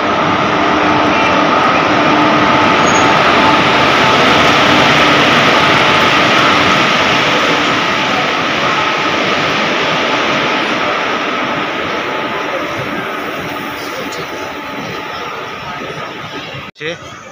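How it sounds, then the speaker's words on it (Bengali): Howrah–Bokaro Steel City Express rolling into platform 3 at a station, a loud, steady broadband rumble of the train that holds for most of the stretch and slowly fades toward the end, with voices talking over it. "এটা 3 নম্বর প্ল্যাটফর্মে ঢুকছে আমাদের ট্রেন"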